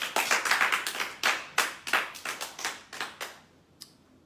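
A church congregation claps together in praise of the Lord after a prayer, a run of sharp, fairly quick claps that start close and lively, then thin out and fade toward the end, with no voices over them.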